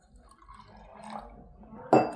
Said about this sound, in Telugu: ఇలా నీళ్లు పోసి